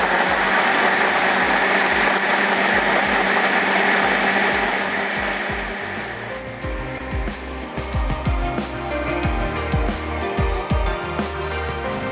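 A blender whirs loudly and continuously, its motor note shifting and sputtering as a thick mixture of onion and yogurt churns.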